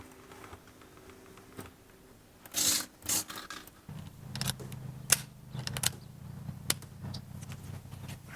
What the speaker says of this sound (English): Get this hose wound up a little better.